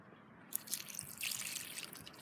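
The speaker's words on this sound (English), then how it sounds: "So here I'm going to put some water on it now." Water is poured over fresh nettle leaves to make tea outdoors, giving a steady soft splashing and dripping trickle for a couple of seconds with a slightly louder burst midway.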